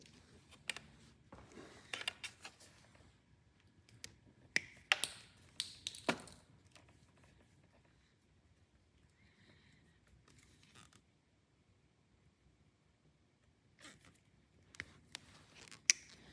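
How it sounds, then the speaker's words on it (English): Wires being cut, stripped and crimped with ordinary crimping pliers while installing an accessory on a KTM 1050-1190 Adventure motorcycle: scattered close snips, clicks and squeezes in irregular bursts, quiet overall, with near-silent pauses between. "we're just gonna cut and strip these and crimp these on"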